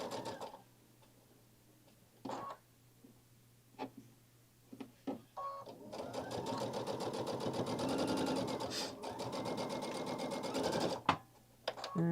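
Sewing machine stitching a dress placket, starting after a few light clicks and handling taps, then running in a steady, close, rapid hum for several seconds before stopping with a couple of final taps.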